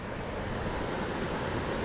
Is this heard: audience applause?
no